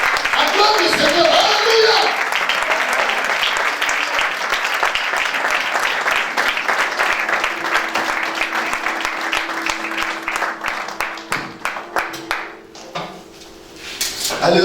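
A church congregation at a Sunday service applauds and cheers loudly and continuously, then the clapping thins out toward the end.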